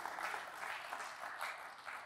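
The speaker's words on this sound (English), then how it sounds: "Clap that up." A theater crowd at a community justice festival in Inglewood applauds in a dense, continuous wash of clapping that holds steady throughout.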